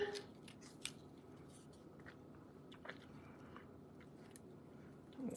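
Scissors trim the end of a Simply Elegant ribbon trim: a few quiet, crisp snips spaced out over a faint, steady room hiss, with soft rustling in between.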